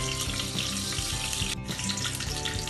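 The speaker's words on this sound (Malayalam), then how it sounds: "ഇപ്പോൾ ഈ എണ്ണ ചൂടായിട്ടുണ്ട് ഞാൻ ഈ സ്പൈസസ് ഇട്ട് കൊടുക്കുകയാണ്" Whole spices hit hot oil for a chicken biriyani, setting off a loud, steady, dense sizzle and crackle that runs continuously close to the pan.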